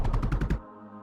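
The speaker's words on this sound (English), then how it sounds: "We can shoot this guy though. We've got guns, so we can shoot this guy." Copper-fed turrets fire in the video game Mindustry: a rapid run of about six evenly spaced, punchy shots over half a second, then abrupt quiet with only a faint steady game hum.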